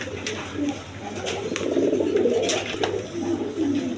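Pigeons coo at a pigeon seller's, among them a female Chinese Shaul pigeon, with soft, repeated low calls overlapping steadily and fairly close.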